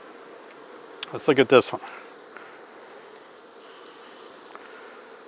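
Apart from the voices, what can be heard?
honeybees buzzing in an open beehive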